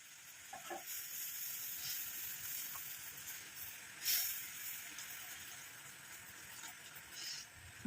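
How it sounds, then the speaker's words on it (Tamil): Water with turmeric and coffee powder bubbles in an iron kadai, a faint, steady hiss of simmering with a few soft pops and one brief louder bubbling burst midway, no voices over it. "பாருங்கள், நல்லா கொதிச்சு வருது."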